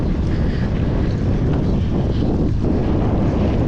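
Strong wind buffets the microphone on a bicycle ride in headwind with rain starting, a loud continuous low roar and rumble filling the whole stretch with no talk.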